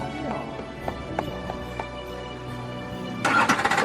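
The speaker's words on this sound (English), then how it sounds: "He stamped his foot." A horse stamps its hoof a few times, giving sharp, scattered thuds and knocks at moderate distance, ending in a louder scuffling burst, with faint background noise and possible murmured voices.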